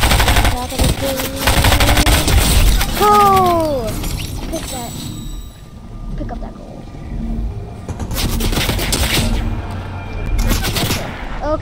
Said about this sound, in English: Someone's shooting at me. I don't even know where they are.